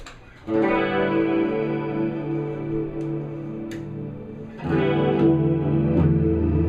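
Sustained chords on a vintage Gibson ES-335TD electric guitar with a swirling, sweeping phaser effect, the tone slowly shifting in and out, then a fresh chord strummed near the end.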